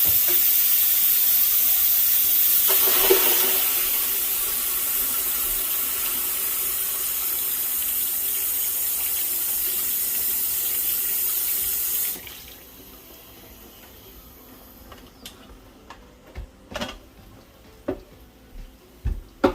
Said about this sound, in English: I'm going to move it to the sink to cool it down.